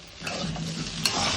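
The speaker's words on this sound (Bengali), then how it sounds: "আলু ভাজা হচ্ছে।" Potatoes fry in a pan for an egg and potato curry, giving a steady close sizzle with a few scraping stirs and one sharper clatter near the end.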